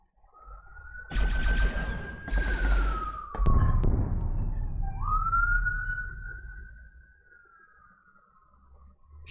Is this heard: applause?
no